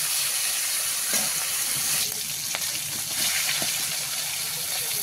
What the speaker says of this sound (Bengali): মাথার কিছুটা অংশ লাল লাল করে ভাজা হয়ে গেছে